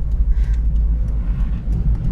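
A Mazda MX-5 NC Niseko under smooth, gentle driving, a low engine and road rumble heard steady from inside the car, fairly loud and without talking.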